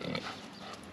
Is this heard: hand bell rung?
no